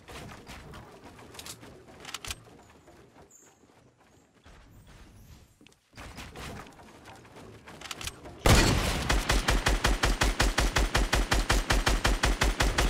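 Gunfire in Fortnite: after a quieter stretch of scattered sounds, a loud automatic weapon lets loose a fast, evenly spaced stream of shots that runs to the end.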